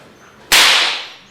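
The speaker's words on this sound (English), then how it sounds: "and we crack the whip" Leather stock whip cracked on a farm, a single sharp, very loud snap that rings out and fades over most of a second against a quiet background.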